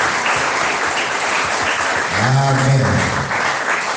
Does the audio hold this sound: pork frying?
no